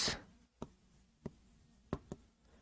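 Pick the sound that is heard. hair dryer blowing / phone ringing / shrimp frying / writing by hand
writing by hand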